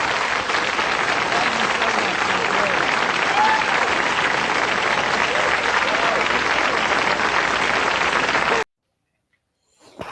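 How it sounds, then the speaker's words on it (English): An audience at a comedy show claps in a dense, sustained round of applause that fills most of the stretch, then cuts abruptly to near silence with a faint sound at the end. "How about a round of applause"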